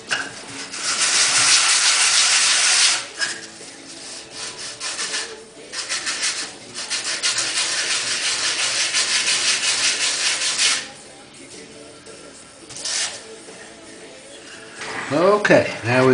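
A small part, likely for an Ultra Light model, is rubbed back and forth on sandpaper in loud, steady scraping bursts with short pauses between strokes, close up, and a voice speaks briefly near the end.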